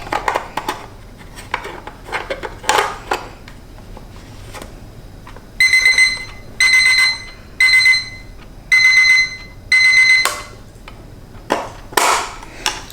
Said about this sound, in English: As you just heard, the alarm works.